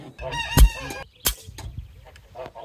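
Chickens cluck and squawk nearby in an outdoor setting, several short harsh calls with a couple of loud sharp bursts amid scattered softer bird noises.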